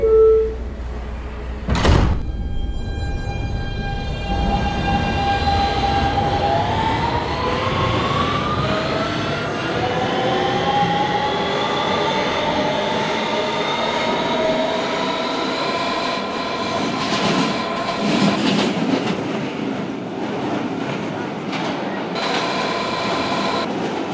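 A Kawasaki R160B Siemens subway train in the Roblox MTA game, pulling out of Atlantic Avenue–Barclays Center toward 96th St–2 Ave. A sharp clunk comes first, then a motor whine climbs steadily in pitch as it accelerates, loud and continuous.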